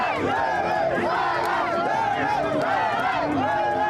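A dense crowd of protesters during a military coup in Niger's capital, chanting and shouting in loud rising-and-falling waves that fill the whole stretch without pause.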